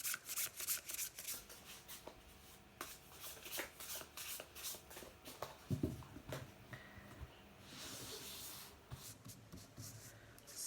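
Tarot cards are shuffled and handled in a close, quiet setting, with repeated soft riffling bursts and light rustling and slapping of the cards, no one speaking.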